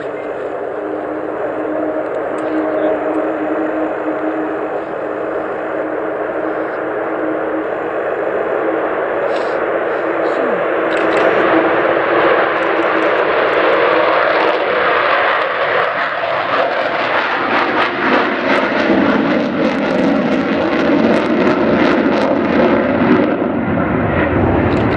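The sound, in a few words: Avro Vulcan XH558 jet bomber flying at air show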